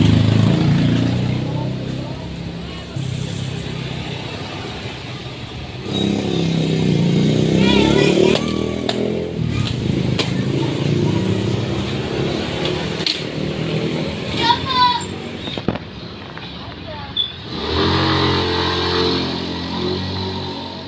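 Motorcycle engine revving after a carburetor cleaner treatment: bursts of throttle rising and falling, a sputtering idle between pulls, with voices speaking at times.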